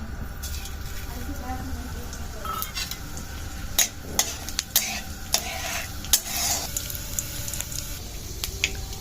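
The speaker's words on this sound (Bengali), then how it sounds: "কড়াই পাঁচফোড়নটা দিয়ে দিচ্ছি।" Panch phoron spice seeds hit hot oil in a wok for a vegetable chop masala, giving a soft sizzle and crackle under scraping stirs and light clinks of a utensil against the pan.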